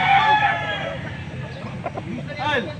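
Bullstag gamecock crowing at a busy Philippine poultry market, a close drawn-out crow under background chatter and other fowl clucking nearby.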